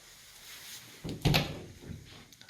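Bathroom door in a hotel room swung open, a muffled thump followed by a brief rattling clunk of the door moving, fairly close with faint room noise around it.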